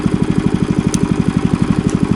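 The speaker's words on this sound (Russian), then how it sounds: "Запустился двигатель. Выключатель перестал работать." A small engine runs on with a fixed switch that no longer shuts it off, a loud close steady putter with rapid even firing pulses and no change in speed.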